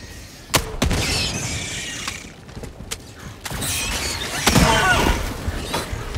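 Grenade-firing sidearm in the Helldivers 2 game fires several sharp, loud blasts, with crackling debris and rumbling aftermath between shots, close and punchy over a busy combat background.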